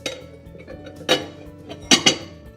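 A few clinks of ceramic dishware, two close knocks at the end as a plate settles onto a dish, over a faint background hum from a Breville Tramontina stainless steel smart electric oven.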